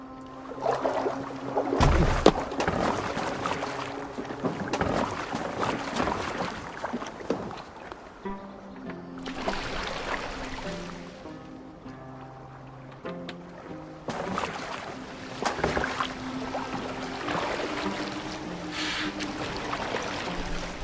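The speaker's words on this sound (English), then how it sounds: "Are you well enough to steer this boat?" Boat moving on water in the video game Assassin's Creed Valhalla, with a steady wash of water and splashing strokes, under background music and voices talking.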